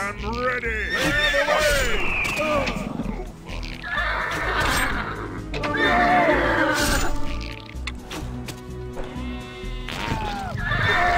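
A horse neighs and whinnies repeatedly in loud, close bursts in the video game CastleStorm, with hoof clip-clops and game-like action sounds around it.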